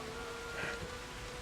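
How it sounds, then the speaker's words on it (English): Heavy rain pours steadily, a dense, even hiss of drops with no breaks or voices, quiet and continuous throughout. "The rain rages on, and Otohime just sighs."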